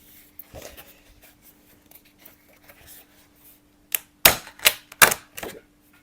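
A sheet of watercolor paper is peeled off its pad in a few sharp, crackling tearing bursts near the end, after quiet rustling and a faint steady hum.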